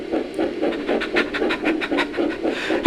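A dog pants rapidly and rhythmically, close and clear, with quick regular breaths repeating steadily through the whole stretch.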